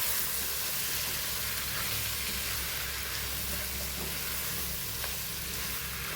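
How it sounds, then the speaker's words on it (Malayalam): Chopped raw mango stirred into a hot, fried spice mix for Kerala-style mango pickle, giving a steady, dense sizzle and frying hiss throughout with soft stirring underneath, close and continuous, no talking. "മാങ്ങ അരിഞ്ഞ് വെച്ച് ചേർത്ത് കൊടുക്കാം കേട്ടോ. നന്നായിട്ടൊന്ന് ഇളക്കി കൊടുക്കാവേ"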